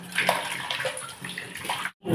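Running water splashes over halved potatoes as they are rinsed clean, a close, continuous gush that stops abruptly before briefly resuming, with no voices.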